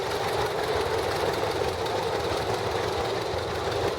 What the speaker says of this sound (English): Here's a 1939 John Deere Dain 3840 Style 4-speed, part of the John Elko collection out of Kingston.